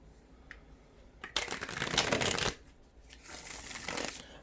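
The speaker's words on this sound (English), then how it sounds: "let's go ahead and pull some tarot for you" A deck of tarot cards is shuffled close by in two riffling bursts, a long one and then a shorter softer one, with crisp papery flutter and no talking.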